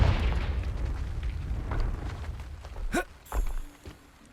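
A Confringo fire spell goes off in Hogwarts Legacy as a deep, rumbling blast, followed by a sharper burst and a few thuds and crackles fading near the end.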